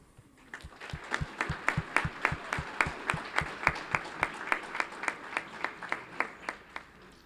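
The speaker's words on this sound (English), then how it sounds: "we can give them an applause loud enough that they'll hear it at home" Applause from an audience at a school board meeting, heard as a steady run of distinct, fairly even hand claps that swells after a brief start and carries on for several seconds with no talking.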